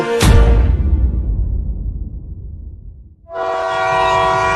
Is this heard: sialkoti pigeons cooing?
no